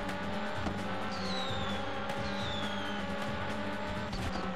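A Porsche race car overtakes in the PS1 game 24 Heures du Mans, with a loud continuous engine drone, a rising whine and brief tire squeals as it passes, no talk.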